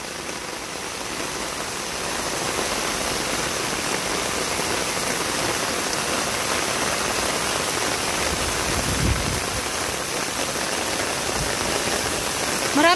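Heavy rain in Nepal pours down in a steady, dense hiss that stays loud and even throughout, with no voices over it.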